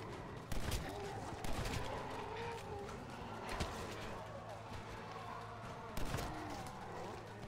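Gunfire in the Western zombie game Red Dead Redemption: Undead Nightmare, sharp shots spaced a second or two apart over a dense game soundscape, with a player talking over it.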